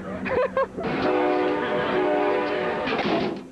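An Amtrak train sounds loud and close, with a sustained rumble and a strong tonal horn-like hum that runs steadily after a brief opening burst of voices.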